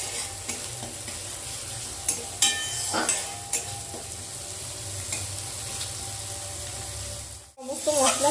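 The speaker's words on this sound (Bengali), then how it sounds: "এবার সমস্ত মশলাটা খুব ভালো করে আমি মিশিয়ে নেব।" Spices for Bengali chana dal with hing stirred and frying in a pan, a steady sizzle under repeated scraping strokes of a spoon, close and moderately loud, ending in a brief pause and a fresh burst of sizzling.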